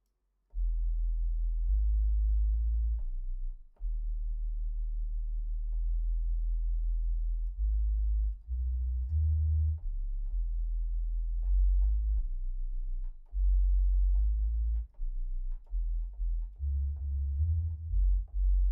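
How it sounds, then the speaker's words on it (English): Deep cinematic synth bass designed in a Reaktor synthesizer, with reverb and delay, playing sustained low notes in a loud, rhythmic pattern with brief gaps, alone without any voices. "we've created more of a cinematic bass sound in context"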